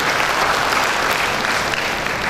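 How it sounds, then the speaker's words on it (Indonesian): An audience at a graduation ceremony for a health polytechnic claps, producing a dense, sustained burst of loud applause from many hands, with no voices audible. "tepuk tangan Bapak Ibu."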